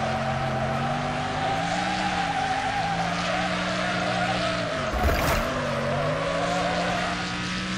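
Car tyres skid and squeal during a drift in the racing game Wreckfest, a loud sustained screech over steady engine drone with pitch shifts as the car slides, one brief burst near the end.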